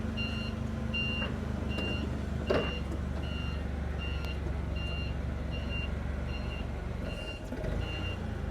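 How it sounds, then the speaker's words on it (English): A forklift's reversing alarm beeps steadily and repeatedly at a moderate distance inside an Audi parts department, its regular pulses riding over a constant mechanical hum with a brief clunk partway through. "Then you just want to park the forklift back and make sure the forks are back down."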